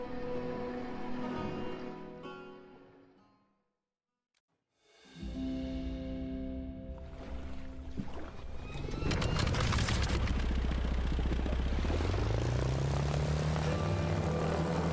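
Airship engine in the video game Brew Barons throttling up, a steady propeller-like drone that rises in pitch and loudness after a brief silence, ending as a loud sustained roar.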